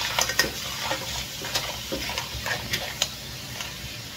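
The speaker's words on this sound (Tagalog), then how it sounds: "Then gisa natin ulit" Mussel shells with parsley being sautéed in a pan, a faint sizzle under repeated light clinks and scrapes of a utensil stirring, close and quiet with no speech.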